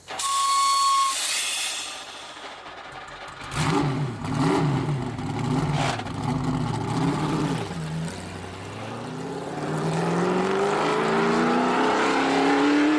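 A car driving sound effect with a loud engine note that fades, then revving and rising pitch sweeps as the vehicle accelerates, continuous and fairly close throughout.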